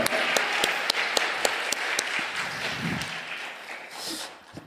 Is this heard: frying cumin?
no